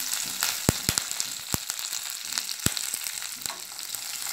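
Chana dal, urad dal and chopped shallots crackle in hot oil after mustard seeds have popped, a tempering for a lemon idiyappam. A steady close sizzle is broken by several sharp pops and clicks, with no voices.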